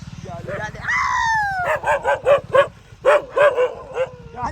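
A dog yips and whines in a series of short, high, close calls, with a long rising whine at the start.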